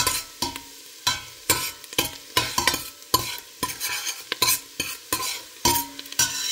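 Hot cooking oil spattering in a pan while sopas is made, loud rhythmic stirring scrapes and knocks repeating every half second over a crackling sizzle, no voices.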